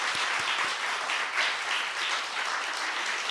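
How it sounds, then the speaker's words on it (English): An audience applauds the authors at a book event, a steady, dense patter of many hands clapping at moderate volume without pause for a few seconds, with no one speaking. "Please can we have a round of applause for our authors?"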